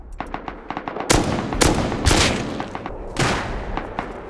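Gunfire in the video game Rust: sharp repeated shots, several quick cracks early on, then four heavy, loud blasts spaced about half a second apart with echoing tails.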